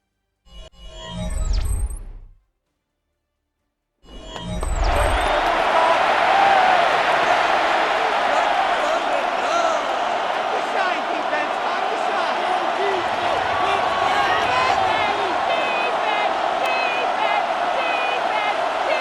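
Stadium crowd in Madden NFL 26 on PS5 during a simulated Bengals vs Packers game at third down: a steady, loud, broad roar that swells after a short silence and holds throughout.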